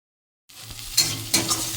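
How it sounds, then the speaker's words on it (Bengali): Okra frying in hot oil with black seed tempering and chili powder, a steady crackling sizzle that starts abruptly and swells in two short stirring surges. "এই দেখো বন্ধুরা ভেন্ডিটা ভাজছি একটু কালো দুটো ফোড়ন নিয়েছি একটু লঙ্কা গুঁড়ো দিয়েছি"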